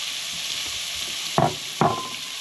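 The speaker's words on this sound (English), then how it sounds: "Then I'll add my leeks into that." Leeks are added to mushrooms in a hot pan and sauté with a steady, close sizzle, and two sharper bursts come as the vegetables are stirred, with no talking.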